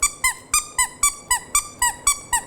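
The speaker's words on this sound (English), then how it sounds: "A little bit of a higher pitch squeak." A squeaky dog toy for Labradoodle puppies is squeezed in a steady run of about nine short, high-pitched squeaks, evenly spaced and fairly close, with no talking.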